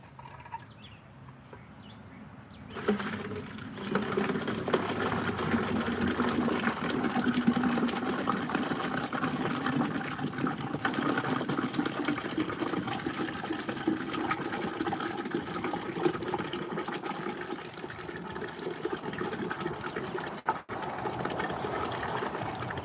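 Steady rushing, pouring water from a bucket of soupy mortar-mixing water runs continuously for about twenty seconds after a quiet start, loud and close, with no talking.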